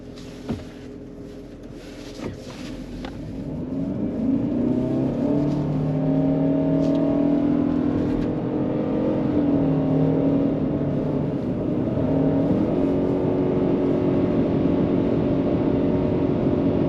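Ford Kuga FHEV hybrid SUV pulling away in sport mode, its engine rising from a quiet idle into a loud steady drone with shifting tones as it accelerates, heard from inside over road noise.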